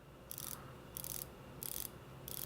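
Four evenly spaced bursts of fine ratcheting clicks from a Seiko Prospex dive watch bezel being turned, close and quiet against a soft background hum.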